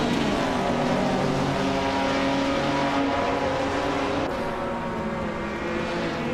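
Race cars in a racing video game drone continuously at a steady, loud roar with no talking over them, including a pace car that is a 1975 Fiat X19 Dallara.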